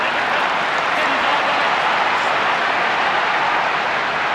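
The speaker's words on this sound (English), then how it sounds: "Crowd getting into the contest at the moment." A steady, loud roar from the crowd at a 2009 AFL match, Essendon hosting St Kilda at a Bombers home game, forms a dense, continuous wash of noise without breaks.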